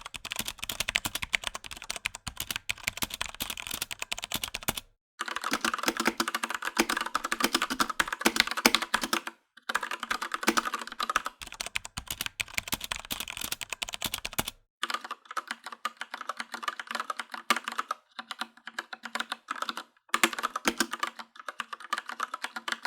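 Typing on an Anne Pro mechanical RGB keyboard fitted with Gateron Brown switches produces rapid clacky keystrokes in continuous bursts, broken by a few short pauses. The sound is close and fairly quiet, with no voices.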